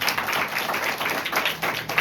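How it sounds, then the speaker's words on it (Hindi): A church congregation claps loudly together during a Sunday service, a dense burst of close, rhythmic applause that keeps going evenly for the whole moment. "आइए परमेश्वर के लिए एक जोरदार ताली बजाएं"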